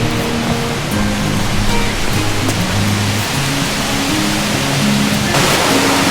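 Waterfalls at Plitvice Lakes in Croatia, heard along the Upper Lakes trail, pour out a steady, loud broadband rush that fills the whole stretch without letup, with faint tonal murmurs underneath.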